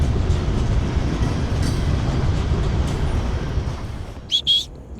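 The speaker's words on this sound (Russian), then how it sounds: "эти поезда ужасные, смотри, совсем убитые, чувак" Old, worn-out trains at the largest station in Mexico City, with a loud, steady rolling rumble and clatter of cars throughout, then a short high squeal of wheels or brakes near the end.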